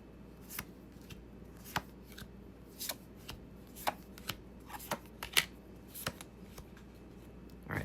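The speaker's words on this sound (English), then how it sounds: "I usually shuffle 9 times." Tarot cards are shuffled in a quiet room, giving a series of soft, crisp riffling snaps at an irregular rhythm, close and fairly faint, with no talking.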